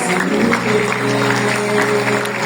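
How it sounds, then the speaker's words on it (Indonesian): Audience applause at a business seminar session, a brief dense burst of clapping with steady tonal music underneath, lasting a couple of seconds. "Tepuk tangan untuk para Emerald, Founders Emerald."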